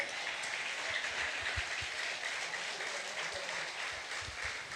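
Worshippers at a church service applaud in a continuous, even wash of clapping, fairly distant and muted, with no clear voices above it.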